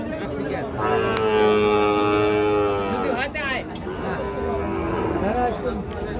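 Cattle and calves at a village livestock market moo loudly and close by, with one long, drawn-out low call followed by further overlapping lows. People talk in the background.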